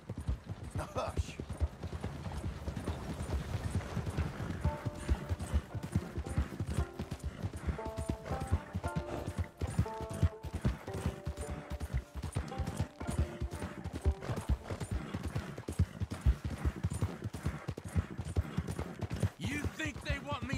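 Horse hooves clip-clop in the Western game Red Dead Redemption 2, a steady rhythmic trot running throughout under game music, with a spoken voice over parts of it.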